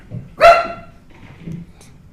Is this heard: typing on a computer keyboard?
no